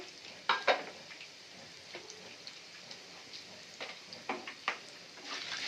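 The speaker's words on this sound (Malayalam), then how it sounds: "അര സ്പൂൺ വെന്തയം ഇട്ട് കൊടുക്കാം ഒന്ന് പൊട്ടട്ടെ" Fenugreek seeds sizzle in hot oil in a pan while making a fish curry, a soft, close frying hiss broken by scattered sharp pops and crackles.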